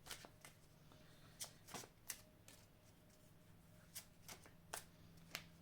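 Tarot cards shuffled and drawn by hand in a quiet room, a series of crisp riffling flicks and soft slaps spaced irregularly, faint and close with a low steady hum underneath.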